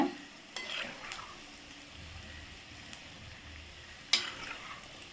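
Sago vada batter sizzles in hot oil with a soft steady frying hiss, broken by two sharp clinks of a utensil; no one speaks.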